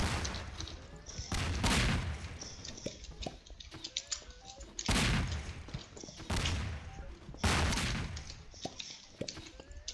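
Explosions in a bomber video game, a series of loud booming bursts and crackling blasts recurring every couple of seconds over busy game noise.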